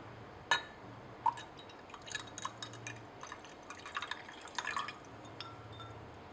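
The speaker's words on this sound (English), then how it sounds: "we're going to start by adding 80 ml of cold water to the reaction mixture." Cold water poured into a reaction mixture of aluminium and iodine in a lab vessel, soft drips and splashes with light glassy clinks over a quiet low hum, fairly faint and close.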